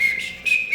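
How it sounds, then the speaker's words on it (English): A person whistling two short, clear, high tones in quick succession, close and loud, with a brief pause between them. "I can whistle like"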